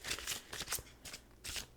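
A tarot card deck is shuffled in several quick riffling bursts, close and fairly quiet, with short pauses between each pass and no voices.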